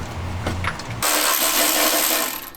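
Ratcheting clicks from a breaker bar and socket loosening transmission-to-bellhousing mount bolts on a 1974 Dodge Challenger, a quick close run of metallic ratchet clicks over a steady workshop background.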